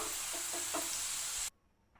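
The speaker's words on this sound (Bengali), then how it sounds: "আমি ভেজে নিচ্ছি সবগুলা" Raw green banana French fries frying in hot oil, a steady bright sizzle with a few soft stirring clinks, loud and close before cutting abruptly to near quiet.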